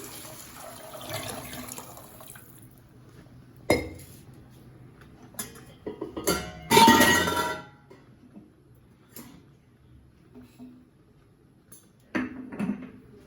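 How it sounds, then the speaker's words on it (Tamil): Water is poured into a pot of turkey berry soup with lentils and turmeric, heard as short bursts of splashing and pouring amid clinks of vessels and utensils, separated by quiet pauses. "அஞ்சு டம்ளர் தண்ணி ஊற்றிடலாம்."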